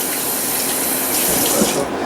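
Water runs steadily into a pot or sink while cooking a stuffed chicken breast dish with condensed cream of chicken soup and milk, a continuous close splashing rush with no talk.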